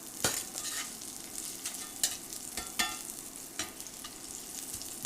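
Ginger sizzles in a pan on an induction burner, with a steady fry hiss punctuated by several sharp scrapes and taps of a utensil stirring at irregular intervals.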